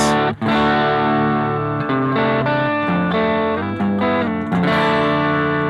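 Electric guitar played through a BOSS GT Matchless DC30 amp model, voiced with extra low mids and bright highs: sustained, overdriven chords ringing alone and steady for several seconds, changing every beat or two.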